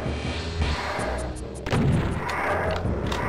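Enemy gunfire in the Doom video game: loud booming shots crack one after another against a rumbling background, with a heavier blast partway through.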